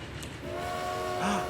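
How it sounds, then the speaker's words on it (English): A train horn sounds in the Transport Fever 2 railway game, a steady tonal blast that swells from about the middle of the short moment over a rumbling rail background, loud and close. "This one's got a good horn."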